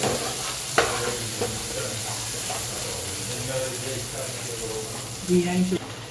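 Potatoes frying in a pan, a steady sizzle with occasional stirring scrapes and a brief splash of water near the end, with soft voices talking in the background.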